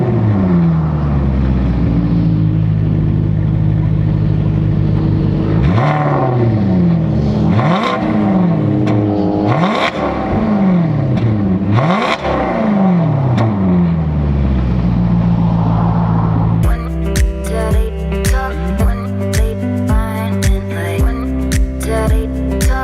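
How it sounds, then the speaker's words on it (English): A stationary Maserati GranTurismo engine starts and runs, giving a loud, steady close-up roar with several rising and falling revs, then settles into a rough, pulsing idle. "let's start it up so you can hear it properly when it's stationary"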